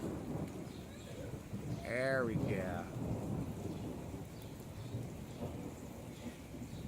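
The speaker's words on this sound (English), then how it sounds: "Let's wait for the thunder now." Thunder from a passing storm rumbles low and steady under rain throughout, with a brief rise near the middle while a person speaks a few words.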